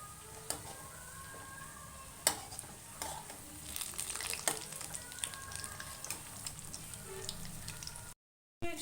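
Bonda snacks are double-fried in hot oil, giving a faint, steady bubbling sizzle with scattered sharp crackles and pops and a brief silence near the end.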